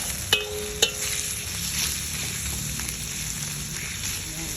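Ground meat browns in a pan with a steady, moderate sizzle, two sharp utensil knocks early on, then continuous crackling frying noise at close range.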